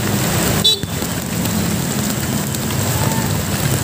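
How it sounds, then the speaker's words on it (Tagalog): Heavy rain pours steadily around a Honda Click 125 scooter on a food delivery ride in traffic, a dense continuous hiss with a brief dip near the start. "ang lakas ng ulan"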